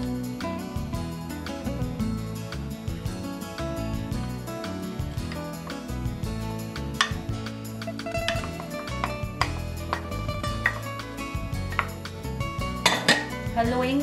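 A thick ube kalamay mixture of flour and purple yam is stirred in a pot, giving continuous close scraping and knocking of a utensil against metal with occasional sharper clinks, while faint voices sit in the background.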